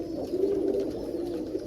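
Roller pigeons coo in a low, soft, continuous murmur nearby, a steady rolling hum of bird calls with no talk.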